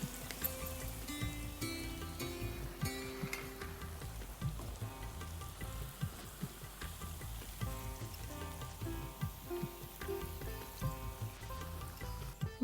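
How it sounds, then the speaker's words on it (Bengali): Fish fries in hot oil with a continuous crackling sizzle, heard close and steady beneath background music. "আমাদের মাছ ভাজা হয়ে গেছে।"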